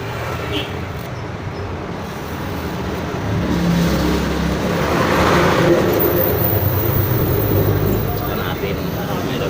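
Continuous roadside traffic rumble, with vehicles passing and swelling louder midway, a steady broad roar throughout.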